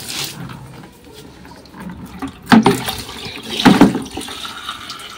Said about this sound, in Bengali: জলটা পুরো বয়ে বয়ে চলে যাচ্ছে